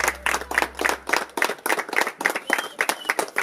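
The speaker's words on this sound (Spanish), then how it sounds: "Un aplauso." Applause for an elderly man at a religious gathering, a dense run of steady handclaps from a small group, close and lively throughout.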